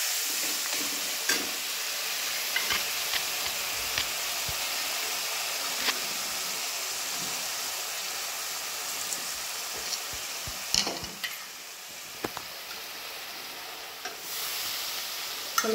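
Fish masala with onion paste and chopped tomato sizzling in a pan while being stirred, a steady close hiss broken by scraping and spoon knocks, with no talking.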